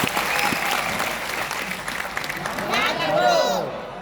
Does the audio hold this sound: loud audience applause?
yes